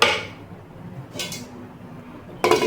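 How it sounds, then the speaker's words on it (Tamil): A metal pot lid set onto a pot of simmering chicken gravy on the stove: a soft clink near the middle and a sharper metallic clatter at the end, over low background hiss, with no talk. "சரி, இப்போ நான் வந்து கொஞ்சம் மூடி வச்சிடுறேன்."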